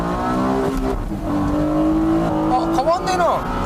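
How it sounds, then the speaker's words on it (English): Two Honda NSX Type S cars accelerate hard from a race start, their engines rising in pitch as they rev up together, a rolling mechanical roar heard under and alongside talk. "Both cars with exactly the same options and they're off."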